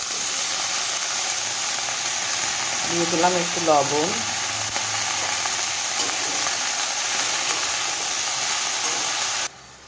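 Constant sizzling hiss of fenugreek greens and fried eggplant in a hot pan, with a brief stirring scrape partway through and a voice speaking over it before the sound cuts off.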